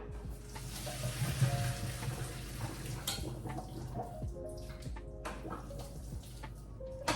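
Water pours out of a pot of ramen noodles into a kitchen sink, a steady close rush of water splashing on metal that thins into scattered drips and small splashes.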